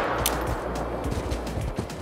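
Rifle gunfire in the hunting video game Call of the Wild, several sharp shots in quick succession over a low rumbling game ambience, loud and close.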